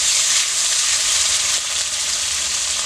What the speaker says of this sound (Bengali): তেলটা গরম হয়ে গেছে, এতে কালো জিরা দিচ্ছি ফোড়নে, দুটো চেরা কাঁচা লঙ্কা দিয়ে দিচ্ছি, পেঁয়াজ বাটা,